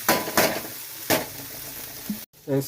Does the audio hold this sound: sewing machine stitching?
no